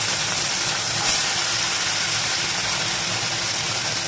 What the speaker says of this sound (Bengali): দেখো মা এখন তেল গরম করেছে, তেলের মধ্যে মাছগুলোকে দিয়ে দিচ্ছে, পোনা মাছগুলোকে দিয়ে দিচ্ছে